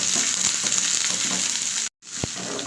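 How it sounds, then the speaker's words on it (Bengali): Onions fry in a pan for a goat meat curry, a steady close sizzle that drops out briefly near the end, then resumes with a single soft knock. "তো পেঁয়াজ ভাজা হয়ে গেছে"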